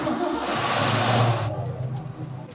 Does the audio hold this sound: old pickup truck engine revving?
yes